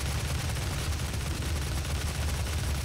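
Dense, continuous gunfire from the shooter game DOOM, a loud unbroken roar of rapid shots with no gaps and no voices.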